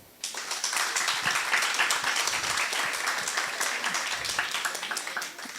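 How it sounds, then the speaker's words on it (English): An audience at an academic seminar breaks into applause after a quiet start, a dense, sustained clapping from many hands that holds steady and then tapers slightly near the end. "So please welcome her and give an applause."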